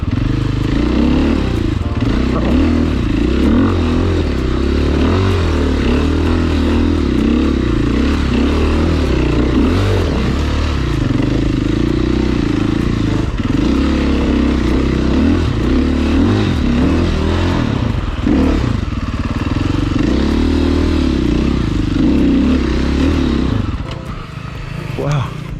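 An enduro motorcycle grinds over rocks in loud, continuous engine noise that revs and labors throughout, with occasional clatter and a voice speaking under it.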